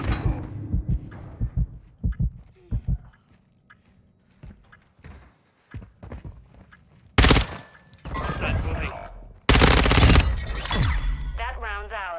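Video game gunfire from a laser-like gun, heard as scattered sharp shots early on, then two loud, dense sustained bursts in the second half, with bits of voice mixed in.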